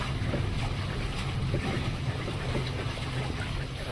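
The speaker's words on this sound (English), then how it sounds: "Got a beautiful Bali 42 coming across our path." A Bali 42 catamaran passes on open water, its presence carried in a steady wash of wind, waves and hull noise heard from aboard another boat, continuous and fairly loud with no speech.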